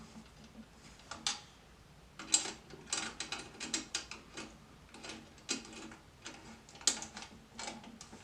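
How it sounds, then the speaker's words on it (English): Tension rods on a drum head being tightened a few turns with a drum key, heard as close, quiet ratcheting clicks in short irregular bursts with brief pauses between them. "tighten it up just enough to where it grabs. Right? Maybe 2 or 3 turns."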